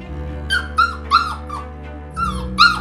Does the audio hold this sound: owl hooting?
no